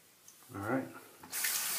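Running tap water at a barbershop sink rinsing after a haircut and shave, a steady hiss of water that starts after a brief voice and continues to the end.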